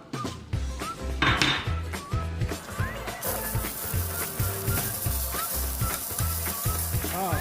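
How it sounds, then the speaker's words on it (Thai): A Thai fried mussel pancake sizzles and crackles in a hot pan while a metal utensil scrapes and taps rhythmically against it, up close. "กระทะกำลังเดือดๆนะครับพร้อมเสิร์ฟครับ"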